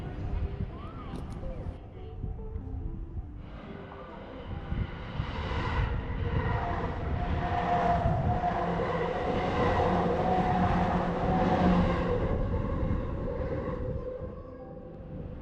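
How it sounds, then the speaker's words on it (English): A train pulls into a station in Japan, a broad rumbling roar that swells and holds steady as it arrives, with people talking over it. "Here comes the train."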